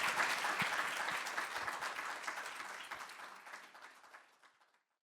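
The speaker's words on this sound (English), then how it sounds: "I would like all of you to give a big applause to our two speakers" Workshop audience applauds two speakers after a session at a non-proliferation and disarmament event, a dense even round of clapping that holds steady and then fades out toward the end.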